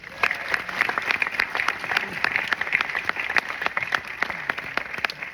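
A live audience at the Rock Hall gives sustained applause to a senator and a representative, with steady, dense clapping from a sizable crowd throughout.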